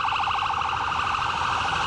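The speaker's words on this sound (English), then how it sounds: "another ambulance is heading in the opposite direction. Sirens and lights flashing." A loud warbling ambulance siren wails in rapid, rhythmic cycles, sounding close and continuous throughout as it passes.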